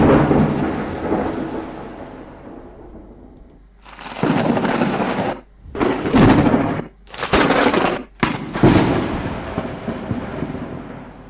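Heavy thunder breaks in several loud, separate crashes, with a long rolling rumble that fades out before sharp claps return. No one speaks.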